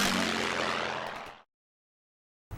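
Loud electric motor and propeller whir of a large J-Power P-51 Mustang RC plane with a 61-inch wingspan, heard close and fading out, then a brief return after a silent gap.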